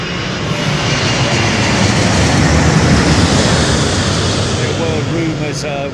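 A Boeing 787 Dreamliner airliner at Heathrow Airport, its engines producing a loud, broad roar that holds steady and fades slightly at the end, heard from nearby outdoors.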